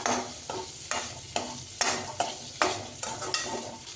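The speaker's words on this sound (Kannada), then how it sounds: "ಪನ್ನೀರು ಇಷ್ಟು ಫ್ರೈ ಆದಮೇಲೆ" Paneer fries in a pan with a steady close sizzle, broken by regular scraping strokes of a spatula stirring about every half second.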